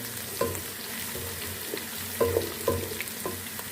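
Potato and spinach frying together in a pan for a dry Indian side dish: an even, close sizzle with several distinct stirring knocks and scrapes, and no voices.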